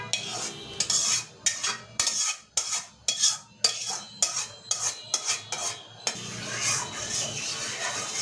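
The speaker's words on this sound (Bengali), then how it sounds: "আগে গুলিয়ে নেই, ডিমটা আগে গুলিয়ে নেই" Eggs whisked in a bowl with a metal utensil for a breakfast dish, a quick run of clinking, scraping strokes in short bursts, close and fairly loud, then a steadier stirring scrape.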